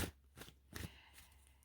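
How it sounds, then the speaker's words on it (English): Tarot cards being shuffled by hand, giving a few soft riffling bursts with short pauses between them, close and quiet, with no talking. "I don't know why I'm still shuffling."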